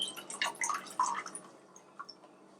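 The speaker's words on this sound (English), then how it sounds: "I'm going to free pour this" Strawberry kiwi lemonade free-poured at a carnival food stand gives soft, scattered splashes and drips, quiet and close, with a few small liquid patters trailing off.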